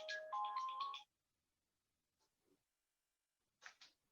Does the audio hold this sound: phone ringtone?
yes